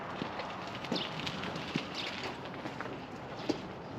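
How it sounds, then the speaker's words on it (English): Horse hooves clip-clopping at a slow walk, a few soft scattered knocks over steady outdoor background noise, fairly faint and distant. "She's a pretty good horse."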